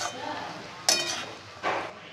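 Chicken chow mein with fried egg stirred in a pan, soft background sizzle broken by two sharp scraping clinks of a utensil against the pan.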